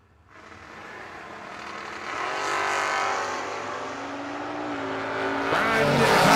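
Drag race cars roar down the strip, the engine noise swelling from a distant rumble to a loud, sustained, rising howl as the cars accelerate.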